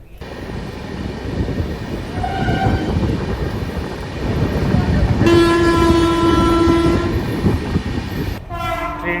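The Puri to Howrah Shatabdi Express rumbles along the rails as heard from on board, a heavy, continuous roar with sustained horn blasts sounding over it and a final short horn call near the end.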